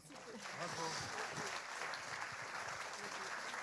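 Applause from an awards-ceremony audience for nominees, a dense steady wash of many hands clapping at a moderate distance, with voices mixed in underneath.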